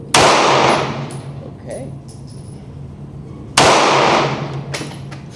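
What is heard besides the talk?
gunshots from a snub-nose revolver at a shooting range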